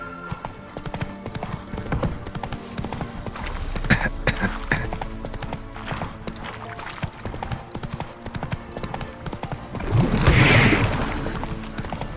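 Roach the horse galloping in The Witcher 3, a continuous rhythmic clip-clop of hooves over a mechanical background with a brief snort or whinny near the end. No one speaks.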